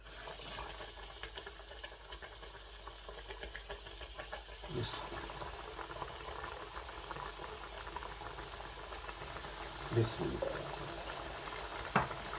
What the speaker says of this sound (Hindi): कुछ इस तरीके से हमारे पीसीस जो हैं वो फ्राई होंगे।